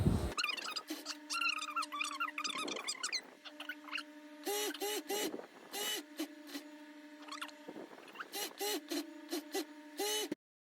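An overlock serger runs in bursts while stitching fabric for a simple kimono-style dress, a loud rapid whirring with short starts and stops, close by and with no one speaking.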